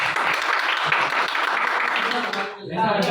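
A small group claps briskly for about two and a half seconds in a mobile phone repair setting, a dense close patter that stops abruptly before talking resumes.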